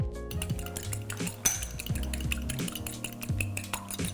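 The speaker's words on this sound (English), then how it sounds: "We're gonna crack this egg and whisk it up." An egg cracked and whisked in a bowl: close, quiet, rapid rhythmic clinking and scraping of utensil against dish, with a sharper tap partway through.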